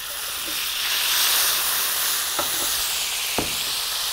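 Olive oil and red wine vinegar sizzle loudly in a pan for a warm romaine lettuce dish, a continuous close hiss broken by a couple of small knocks, with no voices.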